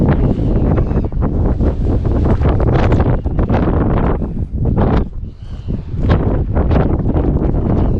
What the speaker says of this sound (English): but it is pretty stormy, as I said earlier.